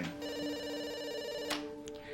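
A telephone rings once in a short electronic burst, fairly quiet and heard alone, then cuts off abruptly.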